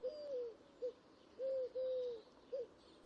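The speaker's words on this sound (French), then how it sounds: "Il n'y a que la tourterelle voisine qui vient interrompre le silence qui meuble cette ambiance religieuse de ce havre de paix" A turtle dove coos in a small, quiet churchyard, giving a few soft, drawn-out tonal calls in an uneven rhythm against near silence, faint and a short distance away.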